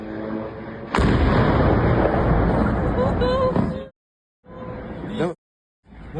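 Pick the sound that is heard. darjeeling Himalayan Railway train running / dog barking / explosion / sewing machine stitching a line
explosion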